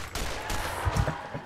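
Pistol gunfire in the video game Borderlands while hunting Skags, a short burst of several quick, moderately loud shots in close succession.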